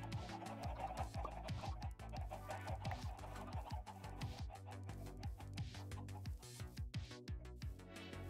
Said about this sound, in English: this is my chicken farm. I use it for XP.